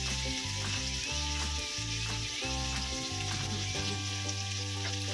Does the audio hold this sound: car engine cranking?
no